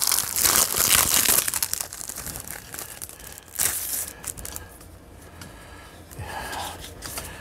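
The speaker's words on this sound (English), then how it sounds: "Let me peel this open here." Crinkly plastic packaging being peeled open on a package of stickers from a board-game chest, with loud crumpling and tearing at first that eases into softer, scattered rustles.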